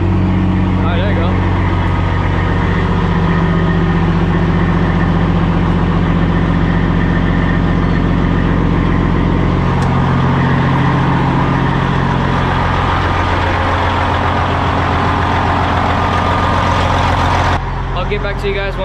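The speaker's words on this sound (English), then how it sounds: "I'm waiting for him to cold start it." A 1998 Peterbilt 379 semi truck idles steadily after a cold start, a loud, low diesel rumble holding constant throughout, with people talking over it.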